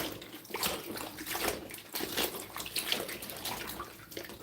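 Tap water runs steadily over vegetables being rinsed for juice in a home kitchen, a continuous splashing wash with small sloshes, close by and moderately loud, with no talking.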